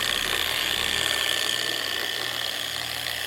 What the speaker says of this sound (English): Right now the weight of the polisher is just doing it all.